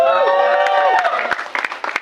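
An audience at the Dhadak 2 trailer event applauds Siddhant Chaturvedi: scattered claps break out partway through and quickly thicken as a presenter's amplified voice fades out beneath them.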